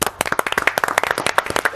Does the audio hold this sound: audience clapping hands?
yes